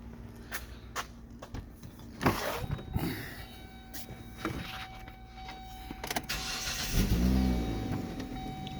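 A car engine running with its air filter removed is started and revved, rising to a louder rumbling surge near the end amid intermittent clatter and handling noise.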